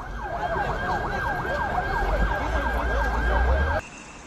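Emergency sirens from ambulances and fire trucks at a truck crash scene in Hatay wail in fast repeating up-and-down cycles, loud and close over traffic rumble, then cut off abruptly.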